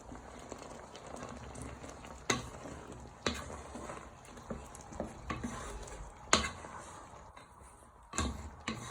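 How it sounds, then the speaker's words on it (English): Sausage casserole stirred in a pan on the hob, a steady low sizzle with faint scraping and occasional sharp spoon clinks against the pan. "you want to give that a good stir together"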